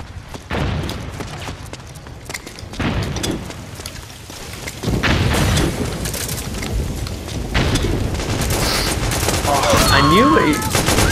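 Rapid gunfire bursts from the online shooter Metal Gear Online 2, crackling repeatedly over an ongoing game soundscape, loud and dense with a few sharper shots near the end.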